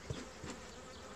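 Agitated Buckfast honeybees buzz around an open hive during an April colony inspection, a faint close hum with a couple of brief louder passes in a short moment.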